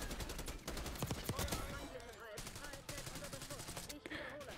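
Rapid automatic gunfire from the Black Ops 6 video game, loud bursts of shots fired in quick succession with brief gaps, continuing throughout.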